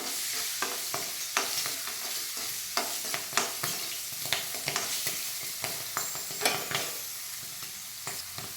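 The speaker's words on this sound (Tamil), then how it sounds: "கொஞ்சம் எண்ணெயில் வறுபடட்டும்" Fresh green peas fry in hot oil as samosa filling, with a steady sizzle and repeated sharp scrapes and clicks of a spoon stirring them around the pan, close and moderately loud.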